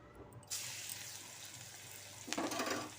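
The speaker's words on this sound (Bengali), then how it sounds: "রসুনটাকে একটু ভালো করে ভাজবো লাল করে।" Crushed garlic fries steadily in a pan after fish, with a louder burst of hissing near the end as it is stirred.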